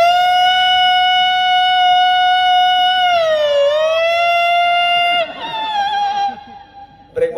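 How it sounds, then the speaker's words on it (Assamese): A VIP convoy vehicle siren wails loudly and close, a steady tone that dips and bends in pitch before breaking off into noisier sound near the end. "যিটো চাইৰেন যিটো ভিআইপি গাড়ীবিলাকৰ আমাৰ যিটো কনভয় এই চাউণ্ডটো কেনেকৈ আছিলে"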